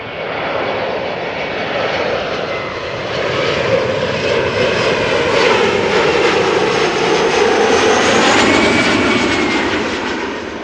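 An Embraer 175 jet arriving at Amsterdam Schiphol Airport roars loudly and steadily, a broad whooshing engine rush swelling as it passes close by, with no talk.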